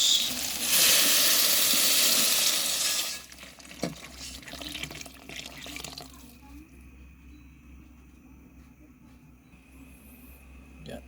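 Water poured into a pan of sizzling sautéed vegetables (sweet potato leaves, malabar spinach, water spinach) makes a loud burst of hissing steam for about three seconds, then settles to a quieter simmering sizzle.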